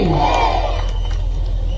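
A large crowd at a political rally for a chief minister's Tiranga Yatra roars and chants together in a loud, sustained mass of voices.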